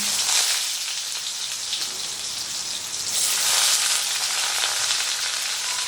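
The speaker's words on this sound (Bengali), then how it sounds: "এবারে এর মধ্যে দিয়ে দিচ্ছি কেটে রাখা কাঁচা আম" Raw mango pieces sizzle loudly in hot oil with a fried mustard seed tempering for mango lentil dal, a dense continuous crackle and hiss that swells partway through, without any talk.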